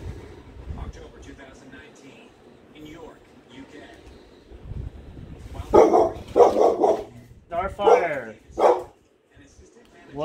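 A dog barks in a burst of several loud, close barks over low background noise, with faint talk earlier, picked up on a security camera in a restaurant dining room.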